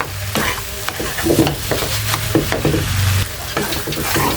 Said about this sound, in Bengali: সুজি দিয়ে আমি আবার ভালোভাবে মিশিয়ে নিচ্ছি।